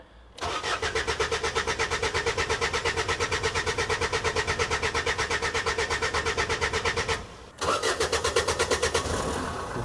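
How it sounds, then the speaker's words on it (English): A diesel engine in a Hackney taxi cranks in a fast, rhythmic chugging run that pauses briefly and then resumes before fading, heard loud and close. "Like the diesel's running back on itself."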